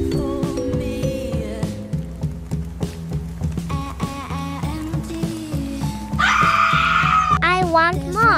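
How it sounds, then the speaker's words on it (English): A woman lets out a loud, piercing scream near the end, rising above layered dramatic music and tense tones, with no talk over it. "That's Mom's scream."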